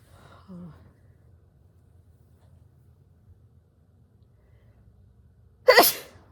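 A single loud, close sneeze bursts out near the end of an indoor recording, after several seconds of low room hum and a brief faint murmur at the start.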